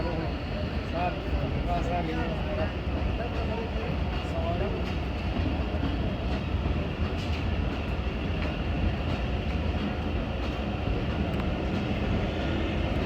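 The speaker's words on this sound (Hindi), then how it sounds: "नॉच अप कर दिया एक बार फिर ड्राइवर साहब ने।" Jaffar Express locomotive 6410 notches up, its engine drone rising under continuous rolling rail noise heard from on board, with talk over it.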